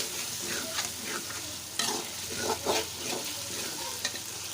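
Potato and taro pieces fry in a pan with a steady close sizzle, while a spoon scrapes and stirs through them in repeated strokes.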